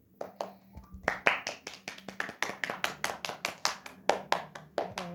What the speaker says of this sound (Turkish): Herkes alkışlıyor Ravi'yi.